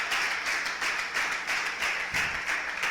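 Congregation clapping hands in church, a dense, continuous wash of applause from many people, loud and even, with no voices over it.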